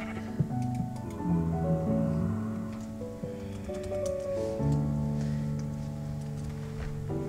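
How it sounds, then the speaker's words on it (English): Sheep bleat repeatedly in a video game, their wavering cries rising over a steady layer of game music and background sound, close and fairly loud throughout. "Oh, there's a sheep!"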